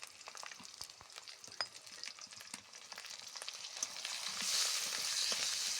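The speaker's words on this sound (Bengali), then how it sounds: "টমেটো, আদা রসুন, পেঁয়াজ ভালো করে কষিয়ে নেব" Tomato, ginger-garlic paste, onion and turmeric sautéing in a pan crackle with dense pops and scraping stirs, the frying hiss swelling louder toward the end, with no talking.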